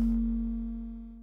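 A steady sine-wave tone from the CubuSynth Arkarion synthesizer VCO holds one pitch with faint overtones, fading slightly over about a second with no other sounds.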